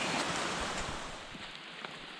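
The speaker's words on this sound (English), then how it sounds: "that's Lincoln Brook right next to us" Lincoln Brook rushes close by in a steady broadband wash along a rainy hiking route near Owls Head, with no voices over it.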